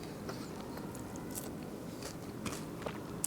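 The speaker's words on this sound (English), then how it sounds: "I'm gonna do this and take a bite of the chip." Crunchy tortilla chip dusted with cinnamon sugar, bitten and chewed while eaten with hot chicken tortilla soup; quiet close crackly crunches and mouth noises over a steady low background, no talking.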